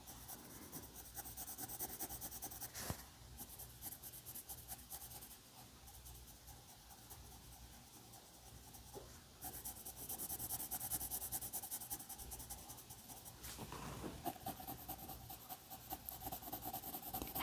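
Pencil rubbing and scratching on paper while a simple leprechaun drawing is made, a faint, steady scratchy rasp that continues throughout with a low background hum and no talk.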